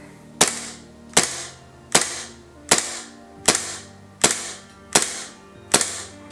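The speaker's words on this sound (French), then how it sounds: "on va y mettre du gaz, voir un petit peu le son que ça fait" Raptor MP443 Grach gas blowback airsoft pistol dry fired with no BBs loaded, eight sharp, loud, close cracks at an even pace of about one every 0.8 seconds, each with the slide's clack and a brief hiss.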